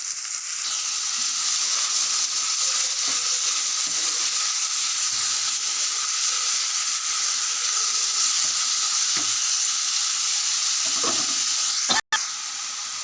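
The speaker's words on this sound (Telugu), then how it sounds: "ఆయిల్ హీట్ అయిందండి, ఉల్లిపాయలు పచ్చిమిరపకాయలు వేసుకుంటున్నాం." Onions and green chillies fry in hot oil with a steady, loud sizzle and hiss that runs unbroken throughout, broken by occasional stirring clinks and a sharp click near the end.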